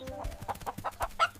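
Chickens cluck in a short burst of repeated clucks, each call distinct and fairly close, while a dog flees from them; the calls are moderately loud with no talk over them.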